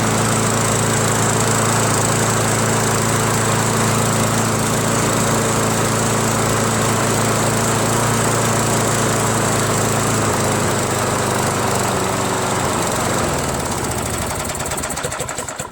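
A John Deere JS63 self-propelled push lawn mower fitted with a power washer engine runs loudly and steadily with a rough, rattling drone, then its pitch shifts and it winds down near the end.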